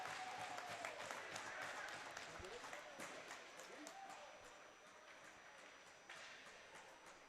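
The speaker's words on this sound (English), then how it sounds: "The late night crowd will celebrate there" Late-night club hockey crowd at Louisville cheering and clapping after a goal, a continuous distant roar that slowly fades, with an announcer talking over it.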